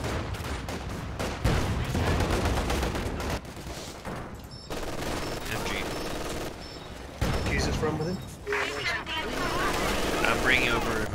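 Machine-gun fire crackles in dense, sustained bursts through a Company of Heroes 2 4v4 battle on the Vielsalm map, loud and continuous amid other battlefield noise, aircraft drone and scattered game sounds.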